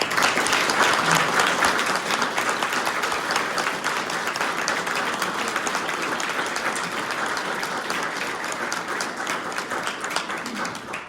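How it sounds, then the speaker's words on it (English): A sustained round of applause from the audience at a Springdale mayoral candidates night, dense steady clapping filling the room for several seconds, fading slightly toward the end. "Let's have a round of applause for our candidates."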